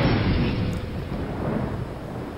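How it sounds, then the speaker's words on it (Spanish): Rain and thunder in the video game Brütal Legend: a loud, deep rolling rumble rises at the start, then fades into a steady wash of rain that carries on alone. "Ok, está lloviendo algo."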